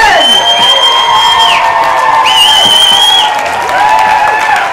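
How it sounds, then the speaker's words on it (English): A large audience at an animal rights event gives loud, sustained applause and a standing ovation, a dense continuous roar of clapping with whistles and rising whoops cutting through. "Let's give them a round of applause. Let's get a standing ovation for her."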